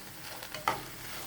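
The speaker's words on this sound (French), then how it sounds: "Là maintenant, donc là je fais revenir mon oignon rouge" Red onion frying in ghee in a pan, a soft steady sizzle with a brief stir around the middle, close and quiet, with no talking.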